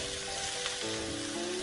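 Vegetables and edamame sizzling in a hot pan for a fried rice bowl, a steady close frying hiss throughout with no talking.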